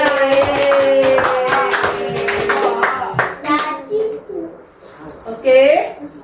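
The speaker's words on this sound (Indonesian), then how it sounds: "Tepuk tangan dulu untuk kelompok 3" A school class claps for a group in a coding and artificial intelligence lesson, a burst of many hands applauding at once that thins out over a few seconds, with children's voices and chatter mixed in.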